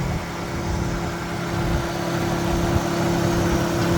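A Nissan VQ35HR V6 engine idles in a steady, even drone, a continuous close rumble with a constant hum and no voices.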